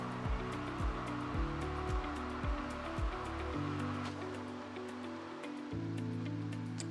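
A pool filtration pump draws water through a skimmer with a steady rushing, churning roar and a low mechanical hum, with gurgling surges as it nearly loses prime, close and continuous.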